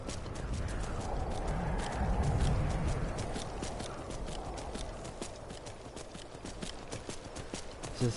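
Steady hoofbeats of a horse in Skyrim, a continuous rhythmic clip-clop over a constant background bed of game ambience, with no talking.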